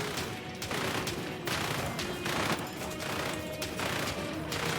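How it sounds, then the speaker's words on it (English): A turret gun firing in the gem-mining roguelite shooter Repetendium, a dense rapid burst of repeated shots running throughout at steady loudness, no speech. "Let's pop out the turret."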